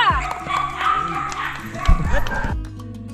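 Under steady talking from handlers, a K9 search dog gives a couple of brief barks close by near the end, with some shuffling movement mixed in.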